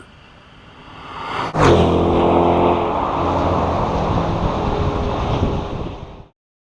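A Chevrolet C8 Corvette's 6.2-liter V8 fires up with a sharp crank and bark, then settles into a loud, steady rumbling idle before cutting off abruptly.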